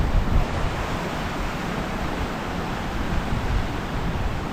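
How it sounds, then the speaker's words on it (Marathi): Sea waves roll onto the sand at Bhandarpule beach near Ganpatipule on the Konkan coast, a steady broadband wash of surf with wind noise across the microphone and no voices. "असा हा समुद्र."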